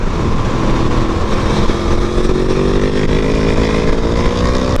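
A Suzuki DRZ motorcycle ridden through corners, its single engine droning loud and close with a steady rumble whose pitch climbs gradually, overlaid by heavy wind rush.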